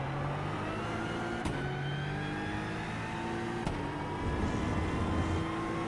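Aston Martin Vantage GT3 EVO race car engine in the iRacing sim on the uphill final stretch at Interlagos, droning steadily with rising harmonic tones as it accelerates through the gears, with two brief upshift breaks and no talk.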